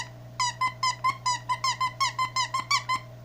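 A dog's squeaky plush toy with a squeaker in its head, squeezed in a quick regular run of about twelve sharp, high squeaks, close and clear over a low steady hum.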